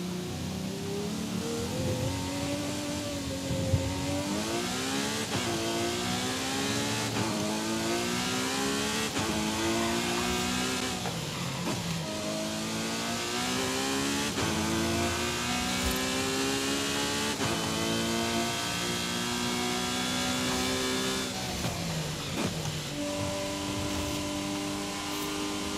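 Car engine in Forza Horizon 5 driven on a Fanatec CSL DD wheel, revving and climbing through gears in repeated rising sweeps, loud and steady throughout with no talking.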